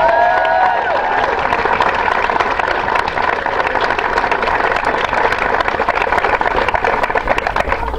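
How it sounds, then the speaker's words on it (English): A crowd at an outdoor groundbreaking ceremony for a Miracle League field in Olathe claps and cheers, a dense, steady wash of applause with scattered whistles and shouts that holds strong throughout. "I would love to hear a big cheer for all the work that's gone into today"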